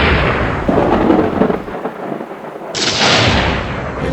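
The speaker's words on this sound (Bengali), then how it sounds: "মনে হচ্ছে বাইরের মেঘ ডাকার আওয়াজ শুনলাম।" Thunder rumbles loudly in a cartoon, a long rolling crash that fades, then a sudden bright hiss of rain or static cuts in and holds steady, no talk.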